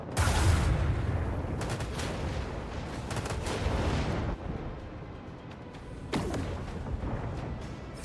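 Starship gunfire in Warhammer 40,000: Rogue Trader during a ship battle against frigates: a dense, booming roar of shots with sharp cracks around the middle and near the end, almost no talking.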